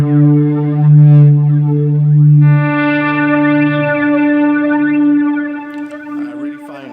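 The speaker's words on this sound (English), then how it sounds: "I use this one, which is a low gain boost, a lot for single note sustaining notes." Guitar played through a low gain boost pedal on an ambient pedalboard, sustaining single notes: a steady, rich harmonic tone with effect wash that holds for several seconds before a brief shift near the end.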